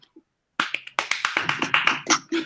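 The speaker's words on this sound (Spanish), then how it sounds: "Les pido un aplauso, por favor, para Gerardo." Clapping from a small online seminar audience for the speaker Gerardo after a mathematics talk. The claps are sparse and uneven, a few close hands patting in quick succession for about two seconds.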